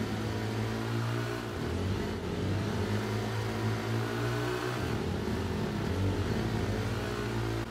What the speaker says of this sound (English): notice how my engine levels is going sort of up and down